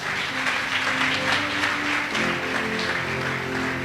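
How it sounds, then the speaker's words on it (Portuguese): A church congregation at a missions congress claps in a dense, steady burst of applause, with crowd murmur mixed in and no clear speech over it. "As palmas para Jesus."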